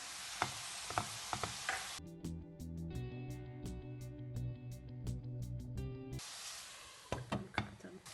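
A minced meat mixture with peppers and tomatoes crackles and sizzles in a pot, with clicks of stirring at the start and end and steady music in the middle.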